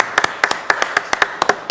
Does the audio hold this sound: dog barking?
no